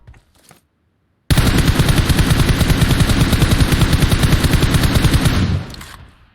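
Sustained automatic gunfire from PUBG Mobile, loud and close, a rapid unbroken burst of shots running about four seconds after a brief quiet, then cutting off abruptly with no talk over it.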